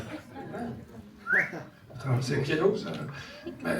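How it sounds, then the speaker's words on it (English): A flautist whistles a short melody, with bright pitched notes and a rising slide, interleaved with breathy pauses and some background murmur. "So being a flautist, I whistled."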